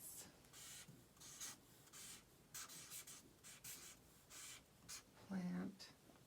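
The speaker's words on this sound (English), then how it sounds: "I'm going to write another sentence." Pencil scratching a sentence onto paper, coming in short irregular bursts of broadband rasping strokes with brief pauses between words, close and fairly quiet; a short voiced sound intrudes near the end.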